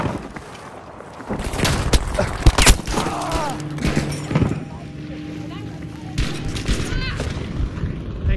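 Grenade blast and scattered gunfire in Battlefield 5 on the Marita map: sharp booms and bursts of shots near and far, mixed with battlefield noise, while someone speaks German over it.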